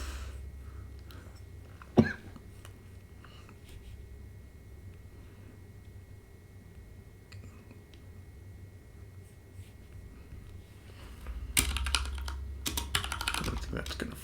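A computer keyboard clicks in scattered taps at first, then in a busier run of quick typing near the end, with a single sharp cough-like burst early on, close up over a low background hum.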